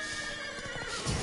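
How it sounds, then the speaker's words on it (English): A short horse neigh from Witcher 3 gameplay, a loud close whinny with faint hoof clatter underneath, over in about a second. "Oh my goodness, horses!"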